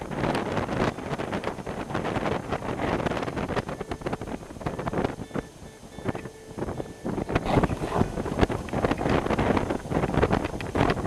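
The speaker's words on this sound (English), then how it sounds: "Hey, is it windy up here?" Strong, steady wind on a mountain summit in winter buffeting the microphone with a constant roar, gusting louder toward the end.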